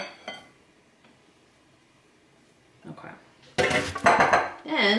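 Salmon burger mixture is scraped from a full bowl into a bigger one, with a faint clink early on, then loud clattering of a spoon and bowl knocking together near the end.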